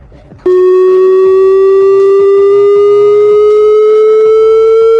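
A steady mid-pitched test tone starts suddenly and sustains loudly to the end, gliding very slightly upward, with faint rhythmic sounds beneath it.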